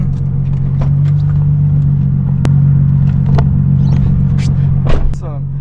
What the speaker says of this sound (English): I'm gonna leave my car running.